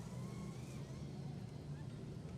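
A figure-eight race car, number 16, at Riverhead Raceway fires up as the driver pops the clutch; a low, steady engine drone rumbles under a commentator's voice.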